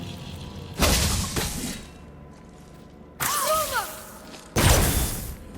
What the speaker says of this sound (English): Then we bring the crystal down.